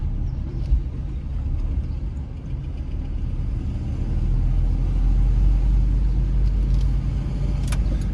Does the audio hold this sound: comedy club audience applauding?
no